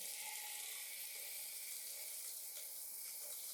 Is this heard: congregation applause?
no